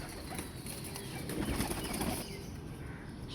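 A pigeon coos and flaps its wings close by, a brief burst of flapping in the middle over a steady rustling background.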